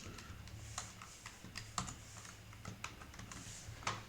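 Keys pressed on a computer keyboard, a quick irregular run of light clicks and taps close to the microphone, quiet and without speech.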